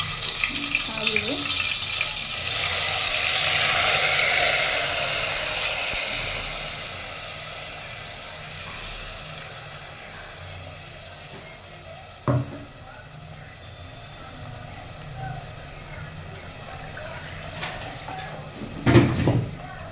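Ground masala paste for egg sambar hits hot oil, a loud hissing sizzle that slowly fades into a softer frying crackle, with a few sharp clinks of a utensil and a voice speaking now and then.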